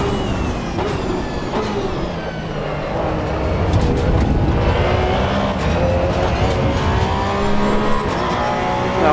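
Porsche GT3 race car engine in Assetto Corsa Evo, a loud, continuous, close engine roar that rises and falls with revving throughout, with no talk over it.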